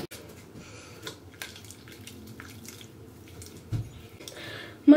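Tap water runs steadily into a bathroom sink during face washing with a cleanser, a soft continuous wash with small splashes and a louder burst near the end.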